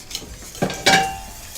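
A utensil stirs a thickening milk sauce in a pan for a Basque txangurro recipe, giving a few short scraping clinks against the metal with a faint sizzle beneath.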